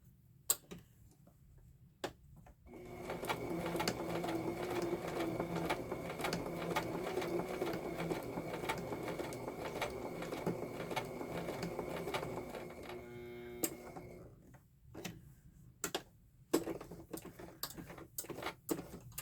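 A sewing machine stitches through a card, its rapid, even mechanical ticking and whirring running steadily for about ten seconds before stopping, framed by a few isolated clicks and handling noises.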